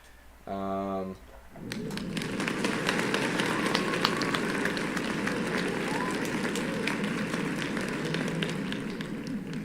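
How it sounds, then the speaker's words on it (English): Canned applause effect fired from a Stream Deck: a short tonal chime opens, then a dense, steady crowd clapping and cheering swells in and holds loud and continuous to the end. "there's some applause for Nick"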